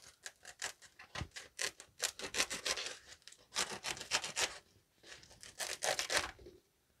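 A knife cuts through a dried loofah gourd's hard, papery shell, producing a close run of crisp tearing and scraping strokes in irregular bursts with short pauses between them.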